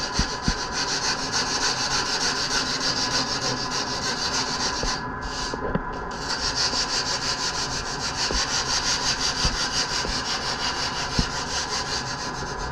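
Coarse 40-grit sandpaper rubs steadily back and forth across a surface, close and fairly quiet. The rasping strokes repeat in an even rhythm, with one brief pause partway through and no talking.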